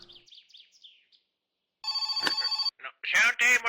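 An in-game telephone in My Summer Car rings as one sustained electronic burst, coming after a few faint bird chirps and followed by a voice.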